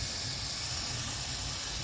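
Cosmoline wax sprays into the engine compartment of a 1985 Mercedes 300CD, a steady close hiss with no break.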